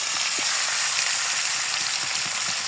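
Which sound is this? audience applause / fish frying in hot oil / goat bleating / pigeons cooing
fish frying in hot oil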